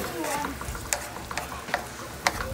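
Butter melts in a pan with lemongrass and lime leaf for Cambodian-style Cajun shrimp, giving a steady soft sizzle broken by a few sharp ticks and pops.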